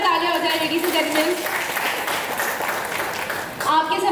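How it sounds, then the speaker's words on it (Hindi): An event audience gives loud applause for Abdul ji at a star-cast celebration of the show's 17 years, with a host's voice talking over the steady clapping throughout. "अब्दुल जी के लिए जोरदार तालियां हो जाए लेडीज एंड जेंटलमैन।"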